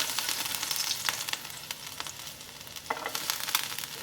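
Chopped garlic fries in hot oil in a pan with a steady close sizzle and crackle, brief stirring scrapes breaking through now and then, and no voices.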